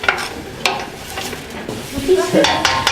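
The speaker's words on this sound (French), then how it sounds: "Vous jetez toutes les aubergines et vous mélangez." A spoon stirring aubergines in a pan scrapes and clinks against the metal, with brief knocks and a light sizzle, close and fairly loud.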